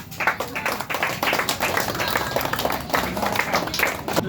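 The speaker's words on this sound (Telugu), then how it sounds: "క్లాప్స్ ఒకసారి గట్టిగా." An audience at a Christmas celebration in a social service ashram claps loudly, with sharp individual hand claps standing out over a busy, sustained round of applause that stays strong from start to finish.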